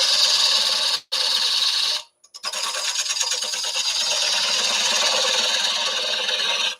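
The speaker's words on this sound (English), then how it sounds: "So a little bit of just cutting that foot, reshaping it. I'm using a little 1/4-inch bowl gouge." A small 1/4-inch bowl gouge shaves the foot of a wooden bowl spinning on a lathe, giving a steady hissing, rasping cut that breaks off twice briefly before running on continuously.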